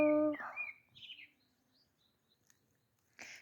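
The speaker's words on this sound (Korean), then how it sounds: "저 새가 뭘까요? 저 새는?" A wild bird sings outdoors beside a flowering akebia vine, giving a few short, high chirps and a brief trill that fade to faint, distant calls, after a louder opening sound and before a final burst of noise.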